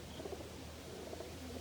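Faint, repeated soft cooing from pigeons in a cleaned loft sits over a low, constant background hum.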